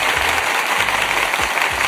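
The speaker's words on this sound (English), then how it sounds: "I'm gonna applaud you 2 more times" Continuous close clapping from a live stream audience, a steady wash of applause with a few sharper individual claps standing out, and no talking over it.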